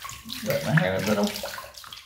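Running water from a tap splashes steadily while hair is wetted during a shave, close and moderately loud, with faint voice-like sounds mixed in.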